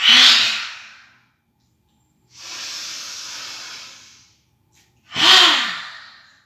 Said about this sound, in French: expire du lion avec énergie par la bouche en tirant la langue